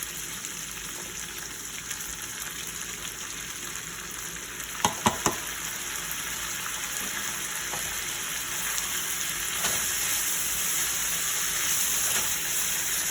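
Steady frying hiss as tomatoes cook in a Cincinnati chili sauce, a continuous close sizzle with a few brief clinks near the middle, no talking.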